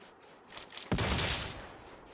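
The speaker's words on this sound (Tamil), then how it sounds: "கரெக்டா வெடிச்சிடா." A toy cap gun fires with a single sharp crack that rings briefly, preceded by a couple of faint pops, close by and loud against quiet surroundings.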